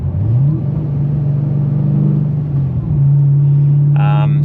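An HSV Gen F series car engine hums steadily while driving on a public road, with a low rumble that rises briefly, holds at an even tone and then settles again, loud and close, with a short burst of speech near the end.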